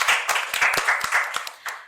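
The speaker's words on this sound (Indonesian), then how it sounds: "Boleh tepuk tangan sekali lagi untuk Marco." Small audience claps for Marco, a national science olympiad winner, on a podcast set, a few sparse, distinct hand claps close by in an irregular rhythm over about two seconds.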